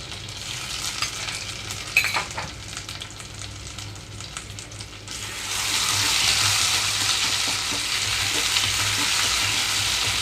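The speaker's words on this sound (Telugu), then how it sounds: "ఇక్కడ ఇందులో అల్లం వెల్లుల్లి పేస్ట్ వేస్తున్నాను" Ginger garlic paste frying in melted butter for paneer butter masala, a loud continuous sizzle with stirring scrapes that grows stronger partway through, no speech.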